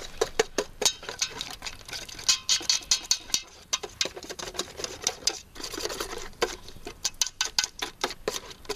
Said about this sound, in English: Mix it in steadily, which I'm going to whisk in.